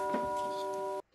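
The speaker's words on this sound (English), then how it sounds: "Ding dong goes the doorbell." A doorbell gives one sustained electronic chime of about a second and then stops sharply, sounding alone in a room.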